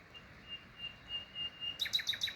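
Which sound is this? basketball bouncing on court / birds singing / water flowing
birds singing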